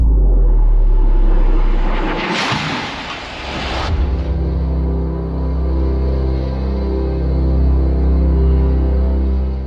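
B-52 bomber engines roar loud and steady through a bomb run, with a broadband surge around the middle before settling into a deep, sustained drone with tonal hum.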